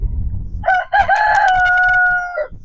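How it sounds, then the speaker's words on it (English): A bantam rooster crows once, loud and close, in a single sustained cock-a-doodle-doo lasting almost two seconds, with some low handling noise before and after it. "Little banny roosters."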